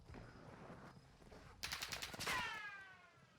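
Rapid automatic gunfire bursts out in a Call of Duty match, a quick cluster of sharp shots followed by ringing tails over faint background sound.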